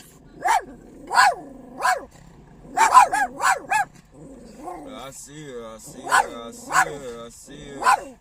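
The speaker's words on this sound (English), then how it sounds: "They love the black dog." A black dog barks in loud, sharp bursts, several barks close together in the first half and a few more near the end, with people talking between and over them.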